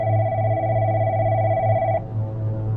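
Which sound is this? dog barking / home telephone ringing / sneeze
home telephone ringing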